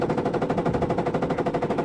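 AK rifle fires in rapid sustained automatic bursts in a tank combat video game, set on the Goose Bay map, loud and continuous for the whole moment.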